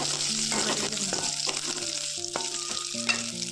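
Vegetables, cauliflower with small fish, sizzle and fry steadily in a pan, a continuous close hiss broken by stirring clatters and scrapes.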